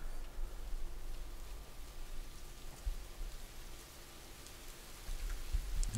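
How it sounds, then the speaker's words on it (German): Steady rain falls in the survival video game Rising World, a soft, even wash of patter with no talk over it. "Naja, ist ja klar, es regnet."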